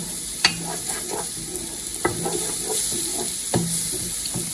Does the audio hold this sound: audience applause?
no